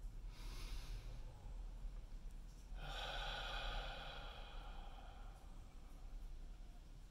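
Slow, gentle breathing while practising for shakuhachi flute playing, a soft airy breath followed by a longer, stronger hiss of air, close and quiet with no talk.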